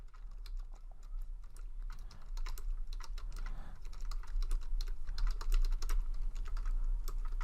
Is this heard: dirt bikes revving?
no